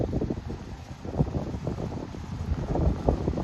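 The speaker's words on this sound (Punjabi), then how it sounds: "ਠੰਡੀ ਠੰਡੀ ਹਵਾ ਚੱਲਦੀ ਵੀ ਹੈ" Cool night wind blows across the microphone in soft, uneven low rumbling gusts, steady and fairly close with no voices.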